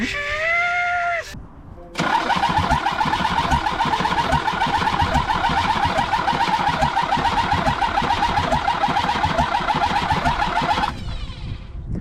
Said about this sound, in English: I never heard it crank like that!